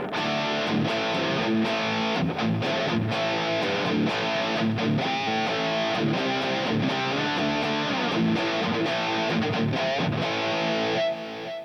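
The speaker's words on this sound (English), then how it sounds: "even when I switch patches, you can hear the reverb still trailing off" Electric guitar played through a distorted, effects-laden amp rig, a continuous dense wash of chords whose reverb tail carries across a patch change, loud and unbroken, with no voices.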